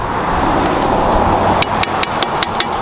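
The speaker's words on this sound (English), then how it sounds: "you gotta really have precision with your hammer." A hammer strikes metal on heavy machinery outdoors, first masked by a loud steady rumble, then five sharp, evenly spaced clanks ring out near and loud toward the end.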